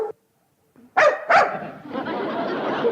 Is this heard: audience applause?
no